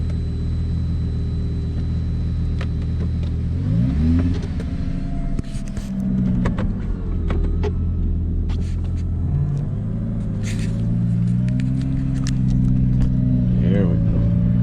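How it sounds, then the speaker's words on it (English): A Lamborghini's engine rumbles close by as it sets off for a short drive around the block, with low steady engine tone and a shift in pitch as the car gets moving, while people talk over it. "My wifey's very first ride in the Lambo."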